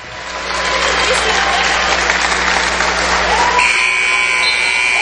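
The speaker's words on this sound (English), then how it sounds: "There's your buzzer, 101-82." A final horn blares at the end of a women's college basketball game, Lewis University against UIS, a long loud steady buzz over roaring crowd applause, then cutting to a shriller tone as cheering continues.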